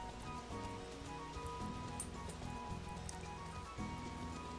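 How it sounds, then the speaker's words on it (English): A waterfall in the Final Fantasy XIV video game gives a continuous, rain-like wash of falling water with a bed of steady background game music and no one talking. "There's a waterfall."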